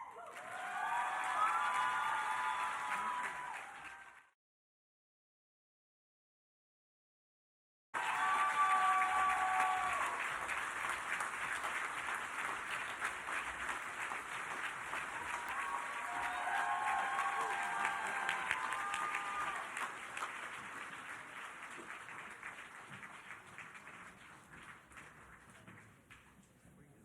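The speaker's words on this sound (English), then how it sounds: "Let's give Mariama one more round of applause." Audience applause at an award ceremony: a large crowd claps steadily with scattered cheers, breaks off into a few seconds of silence, then resumes as a long, full ovation that slowly tapers.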